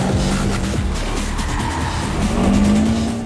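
Race cars drifting on the Lurcy-Lévis circuit, tyres squealing in long rising screeches over loud, continuous engine roar, heard close and intense throughout.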